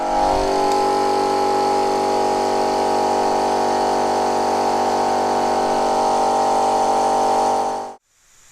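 A DIY powder coating gun sprays powder onto a cleaned, degreased metal part. The gun's steady droning hum runs without a break for about eight seconds, then cuts off abruptly.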